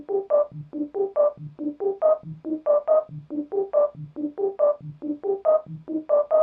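A playful melody played on a mellow synth pad run through an up-down arpeggiator, with steady, evenly spaced plucky notes stepping up and down in a repeating pattern throughout, clear and alone with no talk.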